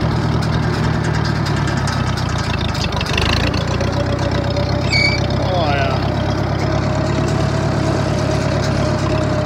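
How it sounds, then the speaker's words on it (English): A small old tractor of about ten horsepower runs steadily out in a hay field, its low engine idling in a constant, close rumble with a brief clunk partway through. "I can operate this tractor"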